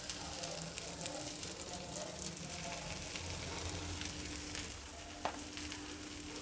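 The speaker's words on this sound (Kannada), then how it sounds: "ಸ್ವಲ್ಪ ಎಣ್ಣೆ ಹಾಕ್ಬಿಟ್ಟು ಬೇಯಿಸೋಕೆ ಹಾಕ್ತೀನಿ" Pea masala roti cooking in a little oil on a pan over medium flame gives a steady soft sizzle, close and continuous, with light scraping and faint background hum.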